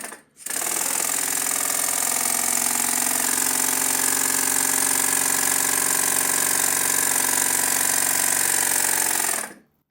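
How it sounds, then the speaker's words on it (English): A model steam engine, over-oiled with far too much oil pumped into the cylinder, runs in a fast, even rattling chatter, loud and close, starting and stopping abruptly after about nine seconds with no talk. "The engine doesn't sound as good because I pumped in far too much oil"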